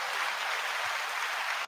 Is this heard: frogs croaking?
no